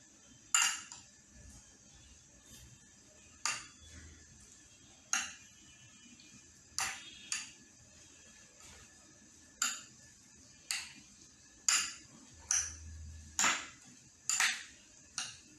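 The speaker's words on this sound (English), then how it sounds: "Then add some sugar and mix together." Sugar being stirred into a mixture with a metal utensil, sharp clinking taps against the bowl at a loose, irregular rhythm, about a dozen distinct strikes over a quiet background with no talk.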